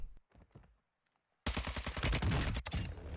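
Gunfire in the video game Warzone 2: after a few sparse shots, a loud close burst of rapid automatic fire rattles continuously for well over a second.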